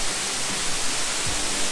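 Panari waterfall at Sakti, Chhattisgarh, gives off a steady, dense broadband rush of falling water, close and constant for a brief stretch with no talking.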